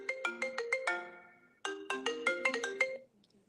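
A telephone ringtone plays close and clear: a quick melodic run of bright electronic tones, a short pause, then the phrase repeats, with no talking over it.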